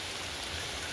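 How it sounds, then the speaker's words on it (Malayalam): Steady rain falls onto a sheet covering, a continuous even hiss with no voices, filling the whole short moment at a moderate level. "മഴ ഉണ്ട്"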